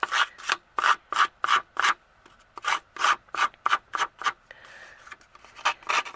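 Dry rubbing strokes of a tool scraping along paper edges while distressing a handmade greeting card, a quick run of about a dozen crisp, evenly spaced rasps with brief gaps, close and clear with no voice.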